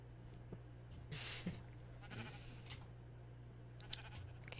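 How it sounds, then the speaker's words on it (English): Sheep bleating in a game setting, a few short faint bleats scattered over a quiet steady hum, distant and sparse rather than a loud flock. "Ah, the sheeps are loud."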